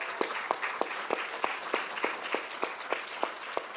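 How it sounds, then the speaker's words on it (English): Audience applause for event sponsors at a civic gathering, with a steady wash of clapping and regular louder claps across the few seconds and no talk over it. "Let's give them a round of applause."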